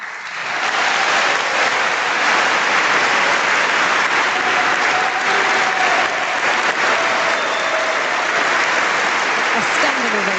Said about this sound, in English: A standing ovation and thunderous applause from the assembled guests here in Oslo City Hall